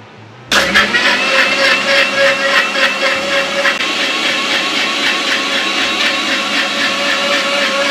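A mixer grinder starts abruptly and runs loud and steady, grinding curd, sugar, coconut and ice for lassi, a continuous whining motor drone close by with no talk.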